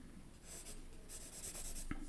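Pencil scratching across paper in steady strokes during an automatic drawing exercise, with bursts of quicker hatching and one sharp tap near the end, close and fairly quiet, with no voices.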